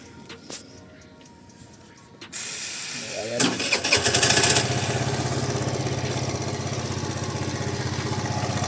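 A Mondial Wing 80 cc motorcycle engine cranks, catches, revs briefly, then settles into a steady, close, rumbling idle.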